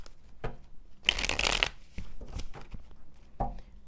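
Tarot cards being shuffled by hand in several short riffling bursts, close and crisp, with quiet pauses between the shuffles.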